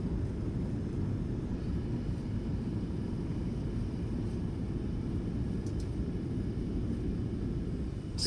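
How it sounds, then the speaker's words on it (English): Boeing 737 reverse thrust in the MSFS2024 flight simulator during landing rollout, a steady loud low roar of jet engines that holds constant throughout, with no talk. "Reverse is normal."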